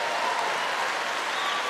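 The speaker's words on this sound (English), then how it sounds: "Somebody clap your hands and praise the Lord." A church congregation during a sermon claps and applauds. A thick, continuous wash of clapping holds at an even, loud level throughout the short stretch.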